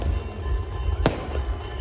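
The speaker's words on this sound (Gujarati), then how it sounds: "તો ખાલી ફટાકડા અહીંયા ફૂટે" A single sharp firecracker crack rings out at the Chehar Maa temple in Gota, cutting through steady low crowd rumble.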